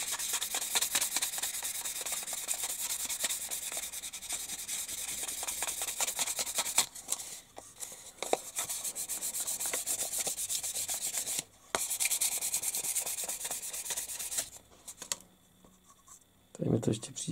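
Fine sandpaper rubbing across the underside of a 1:48 Fiat CR-32 plastic scale model, a steady close scratchy rasp that runs continuously with a few brief pauses near the end.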